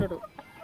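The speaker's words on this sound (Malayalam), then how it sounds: "താഴെ നാടൻ കോഴി ഉണ്ട് രണ്ടെണ്ണം" A free-range country hen gives a few short, soft clucks in quick succession, fairly close and quiet.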